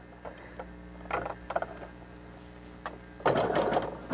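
A sewing machine runs in short, slow bursts, stitching a pipe cleaner into a fabric face mask as a nose piece: scattered ticks, then a louder sustained whirr near the end, close and without talk.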